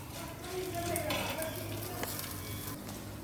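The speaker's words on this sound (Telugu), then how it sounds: "పోపు వేగుతుందండి" Tempering spices sizzling in hot oil for a cucumber pachadi, a dense close crackle and hiss with a faint clink of a utensil, steady and continuous.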